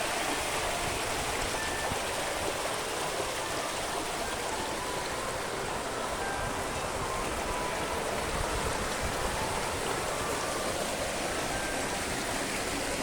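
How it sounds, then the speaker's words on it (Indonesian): A river stream at Kayangan Dlepih flows and gurgles in a continuous, fairly loud wash of water that stays steady throughout, with no voices over it. "Gemericik air terdengar begitu nyaman di telinga"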